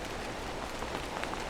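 Heavy rain pours down outside during a headlight bulb change on a GMC Sierra, a dense continuous hiss of drops hitting surfaces, loud and unbroken with no voices.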